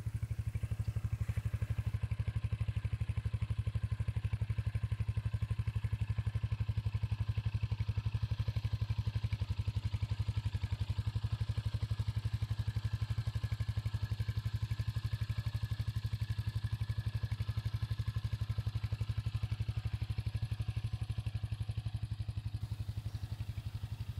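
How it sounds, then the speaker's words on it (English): The Hurricane motorcycle's new engine idles steadily for over twenty seconds, a loud, close, even exhaust thrum with light mechanical clatter on top and no talking. "we're just going to let the engine run for a bit so we can hear the exhaust note"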